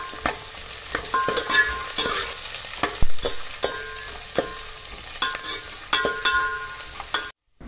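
Onion, curry leaves and dried chillies fry in hot oil as a tempering for a sambar-style dish, with a steady close sizzle broken by repeated stirring scrapes and clinks of a spoon in the pan, no voices.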